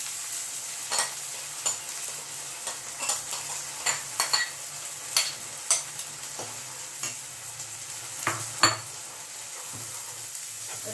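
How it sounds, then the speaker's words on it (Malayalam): Sweet potato masala being stirred and sautéed in a pan, a low steady sizzle broken by regular clinks and scrapes of a spoon against the metal, close and unhurried. "എന്നാലും ഒന്നും കൂടി ഒന്ന് വഴറ്റേണ്ട വരും"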